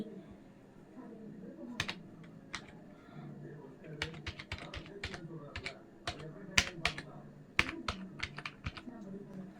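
Quick, irregular clicks of typing on a computer keyboard during banner-making work, sharp keystrokes arriving in bursts and short runs over a faint low background hum, close and fairly quiet.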